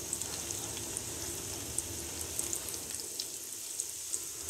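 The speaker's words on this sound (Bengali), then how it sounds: "বড়াটা ভাজা হচ্ছে।" Masoor dal fritters with mint and coriander leaves frying in oil, a soft steady sizzle that carries on evenly with no voices.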